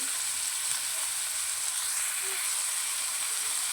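Boiled radish pieces frying with turmeric in a pan on low heat, giving an even, continuous sizzle and hiss that stays steady throughout, close and moderately loud, with no talking.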